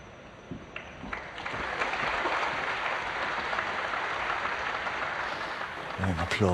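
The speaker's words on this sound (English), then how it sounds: "Warm applause from the audience here." Snooker crowd applause swells in after a few faint claps, holds at a moderate, even level for several seconds, then gives way as a commentator begins talking near the end.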